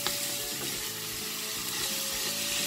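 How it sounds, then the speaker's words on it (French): Cabbage fries in an open pan, a continuous close sizzle with faint clicks and a low background hum, no voices. "Je vais en quelque sorte faire frire nos choux quoi, jusqu'à ce qu'ils cuisent."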